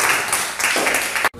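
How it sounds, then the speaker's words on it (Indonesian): A classroom group claps for presenting students, a short burst of brisk applause that stops abruptly near the end. "Oke, beri tepuk tangan untuk kelompok 2."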